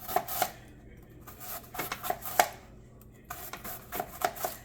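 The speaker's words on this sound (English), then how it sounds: "I'm going to cut it into very thin, long slices." A knife cuts pork into thin, long slices on a cutting board, a quick run of close, crisp taps in small bursts with short pauses between.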